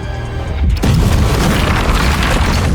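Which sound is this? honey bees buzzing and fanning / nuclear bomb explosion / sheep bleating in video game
nuclear bomb explosion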